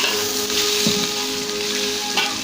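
Okra frying in a spoonful of ghee over low heat, a steady soft sizzle with a faint stir or two, close and continuous with no talking.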